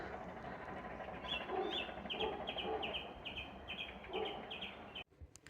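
Birds chirp and sing repeatedly in a quiet spring garden after rain, with short bright calls in a loose rhythm and softer clucking underneath.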